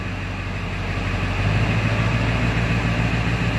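A 7.3 Powerstroke diesel in a Super Duty truck idles at low RPM in whisper mode, a steady low rumble close by that swells slightly louder partway through and holds, with no voices.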